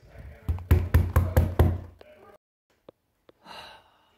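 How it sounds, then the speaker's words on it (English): Knocks on a front door while trick-or-treating on Halloween: five firm, evenly spaced raps close by, followed by quiet pauses and faint breathy sounds. "Alright, I'll knock the door, and you'll see trick-or-treat."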